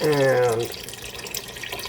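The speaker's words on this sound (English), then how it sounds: "some water. That's about a liter, a little under a liter of water." Water pours into a soup pot for a tomato-based clam chowder: a short spoken word comes first, then a steady splashing, hissing stream of liquid runs on at moderate loudness.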